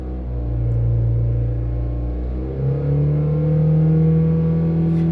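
A car engine idles and then revs up, a steady loud drone that climbs in pitch around the midpoint and holds higher, with no talking over it.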